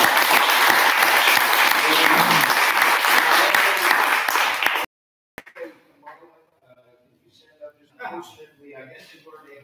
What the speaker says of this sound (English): I want everybody to give these guys a round of applause.